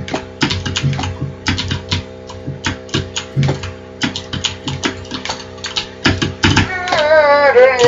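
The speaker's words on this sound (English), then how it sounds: "some people may say that it's a bad thing to hear like a really loud keyboard in a video" A loud computer keyboard clacks in quick, uneven bursts of keystrokes, close and crisp, over a steady background hum, with a rising tonal sound near the end.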